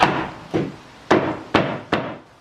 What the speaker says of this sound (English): use a hammer and very gently just tap it in